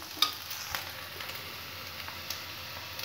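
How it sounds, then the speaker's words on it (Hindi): Garlic and onion frying in a pan, a steady close sizzle with occasional soft clicks and stirring scrapes of the spatula, running alone throughout. "लहसुन तो हमारा पहले से ही भून के तैयार हो गया है, हमें प्याज को और ब्राउन होने तक भूनना है।"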